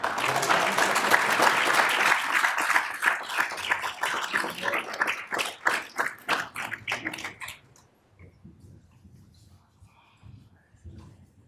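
Applause at a city council meeting, loud and dense at first, then thinning into separate slower claps that stop around the middle and leave faint room noise behind.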